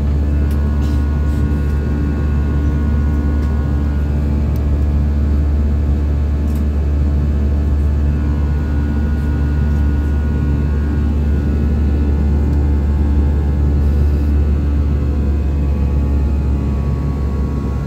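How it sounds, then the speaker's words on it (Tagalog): Steady, loud cabin roar inside an airplane in flight through turbulence, flying from New Clark Airport to Davao City, a continuous low rumble with engine hum that stays constant throughout with no talking. "Tayo po ay makakaranas ng pag-alog ng eroplano."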